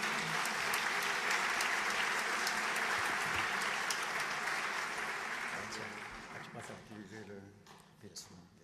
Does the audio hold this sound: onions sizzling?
no